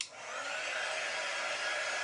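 A handheld air drying tool blowing steadily onto a washed ink mat transfer, a loud constant airy whoosh that starts abruptly and holds even throughout, with no voices.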